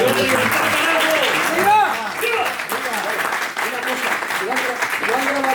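An audience at a political talk on economic reforms breaks into steady, dense applause, with clapping sustained throughout and some voices calling out within the crowd.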